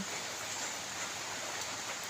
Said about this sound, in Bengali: কাল 11টার থেকে বৃষ্টি, এখন পর্যন্ত বৃষ্টি পড়তেছে